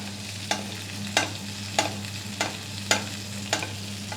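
A haddock fillet sizzles steadily in butter in a hot pan while a spoon bastes it. Six or seven crisp splashing pours land at even intervals over the constant frying hiss.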